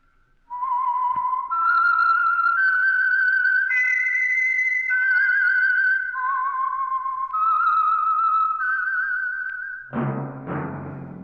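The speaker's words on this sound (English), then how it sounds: "That whistle is your signal for the Signal Oil Program, The Whistler." A whistled theme signal for The Whistler radio program, a lone clear melodic whistle rising and falling through a slow eerie tune, close and loud, ending as a low sound enters.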